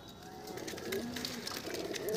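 Madras pigeons cooing softly in a loft, a low faint murmur of repeated coos under steady background noise.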